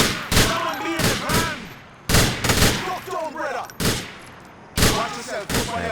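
Gunfire in Grand Theft Auto IV, several loud bursts of rapid shots spaced a second or two apart, with voices talking between the volleys.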